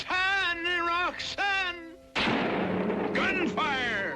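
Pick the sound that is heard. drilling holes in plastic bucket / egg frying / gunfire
gunfire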